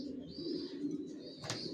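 Young racer pigeons of down-shape Johnson long-distance stock coo faintly in a short, quiet stretch with a brief sharper chirp near the end, no voices present.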